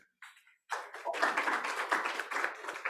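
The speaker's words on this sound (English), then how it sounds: "give another big round of applause to Eric" An audience at a climate action event applauds for Eric, starting with a few scattered claps before swelling into sustained, fairly loud clapping from a crowd that carries on to the end.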